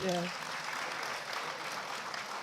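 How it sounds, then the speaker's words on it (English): Quiet, distant applause from a conference audience for the staff at a national non-oil export conference, opening with a brief voice before the soft clapping continues. "Can we clap for them?"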